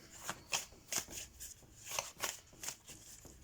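A deck of Barbara Moore's Sagesse de la Terre oracle cards shuffled by hand, a quiet run of soft, rapid riffling slaps repeating roughly every half second, close and alone without talk.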